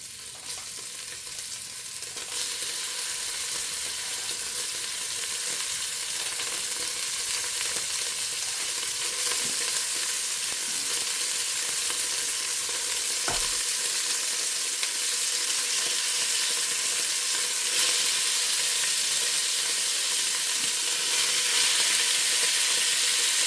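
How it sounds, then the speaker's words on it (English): Seasoned beef pieces sear in a hot pan for stew, a steady loud sizzle and hiss of frying that continues throughout without pause, with no talking. "And we're gonna sear these babies off."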